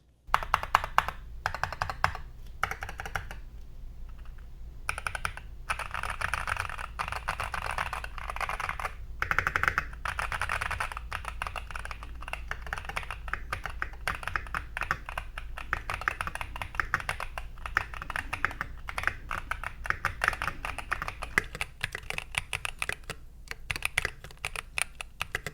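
Typing on a Mode 80 mechanical keyboard, a steady run of crisp, close key clacks with quick bursts and brief pauses, with no talking over it.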